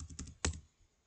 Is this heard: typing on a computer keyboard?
yes